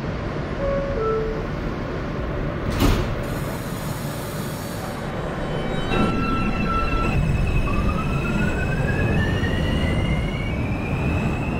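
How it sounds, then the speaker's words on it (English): Simulated R160A subway train on the J line via the M line in OpenBVE, running under steady rail noise with a sharp clank near three seconds and rising whine tones as it pulls away. "Stand clear of the closing doors"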